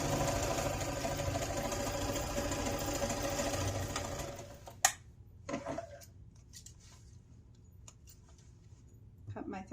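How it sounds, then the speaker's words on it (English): A sewing machine runs steadily while chain stitching fabric pieces together, a dense continuous whir for about four seconds that then stops, followed by quieter handling clicks and thread-cutting sounds. "I'm going to chain stitch, so I'm going to go ahead and do my other piece at the same time"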